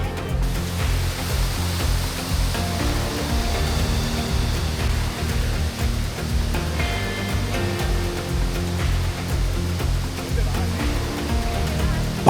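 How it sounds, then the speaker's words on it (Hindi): Powerful rushing water at Doi Inthanon, a broad steady roar of clear mountain water flowing hard, loud and continuous throughout with no break. "पानी का बहाव देखिए कितना ज़बरदस्त है।"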